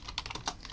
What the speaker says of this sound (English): I just heard the keyboard going.